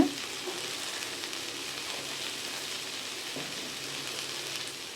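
Small pumpkin pieces sautéing in a pan with turmeric, giving a steady, even sizzle that runs throughout with a faint stir or two and no talk.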